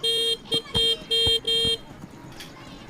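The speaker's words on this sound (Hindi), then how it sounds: "ये तुझे हॉर्न क्यों मार रहा है?" A vehicle horn sounds in five honks, one longer toot followed by four short-to-medium blasts in an irregular rhythm, loud and close, then fades to a quiet street background.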